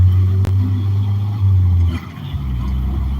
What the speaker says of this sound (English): this is a noisy little rackety little 1985 Nissan pickup truck that I have